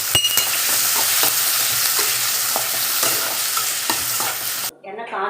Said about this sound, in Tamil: இப்போது இந்த சிக்கன் குழம்புக்கு வெங்காயம் போட்டுடலாம்